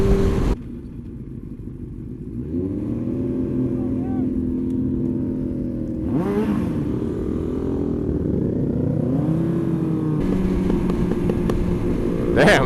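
A motorcycle engine on a commuting ride revs in repeated rising swells over a constant low rumble and road wind, close and fairly loud, with a brief burst of noise between the revs.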